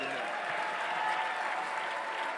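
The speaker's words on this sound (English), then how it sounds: "Give John a round of applause." Audience applause at a West Virginia University introduction of coach Rich Rodriguez, a dense, continuous wash of clapping from a sizable crowd, steady and loud, with faint voices mixed in.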